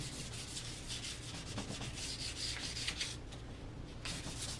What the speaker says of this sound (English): Sand it down with the 400.